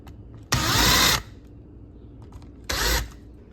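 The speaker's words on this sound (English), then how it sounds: "I've just got this countersink drill bit that I'm gonna use for" Power drill fitted with a countersink bit used to clean burrs on a dog door flap, two short bursts of high whirring spin, the first about half a second and the second shorter, with quiet between.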